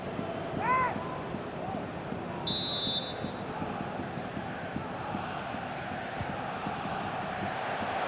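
A stadium crowd roars steadily in FC 24 during a Champions League quarter-final between Manchester City and Real Madrid, a broad distant din with a couple of sharp whistles rising above it.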